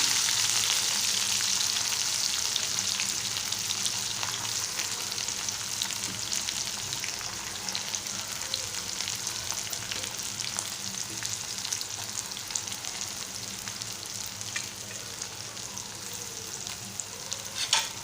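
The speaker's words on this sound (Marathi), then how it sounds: "आता हे छान तेलात भाजू देणार आहोत दोन मिनटं तेलात छान भाजू द्यायचं आहे" Chopped onion and green chillies fry in oil in a pan, giving a steady, even sizzle and hiss that fades slightly over time, with faint stirring and no voices.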